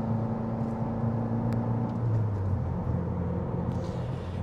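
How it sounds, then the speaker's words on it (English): Exhaust of a 2022-or-newer Subaru WRX rumbling steadily from inside the cabin while driving, a continuous low drone with some light burbling and no talk over it. "The exhaust has some nice burbles."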